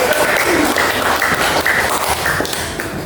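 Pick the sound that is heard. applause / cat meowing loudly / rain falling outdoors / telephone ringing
applause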